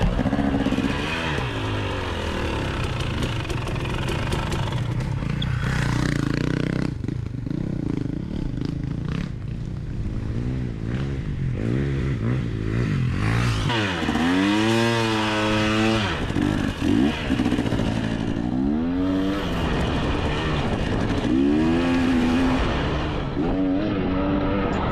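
Racing motorcycle at a Southern Roots Race Tour scramble round, its engine running steadily throughout and revving up and down in repeated rising and falling sweeps, loud and close.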